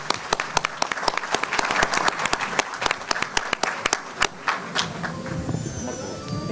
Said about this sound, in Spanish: los participantes que realmente merecen un gran aplauso